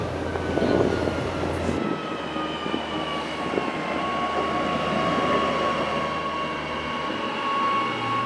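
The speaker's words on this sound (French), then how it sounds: "Mesdames et messieurs, nous arrivons en gare." Mountain train pulling into an underground summit station, a steady rumbling roll with faint squealing tones, enclosed and fairly loud throughout.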